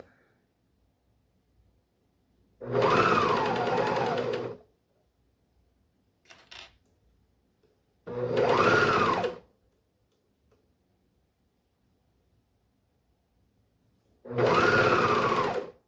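A serger runs in three bursts of steady, high-speed mechanical whirring while stitching small doll clothes, each run lasting a second or two, with quiet pauses and a few faint clicks between them, loud and close.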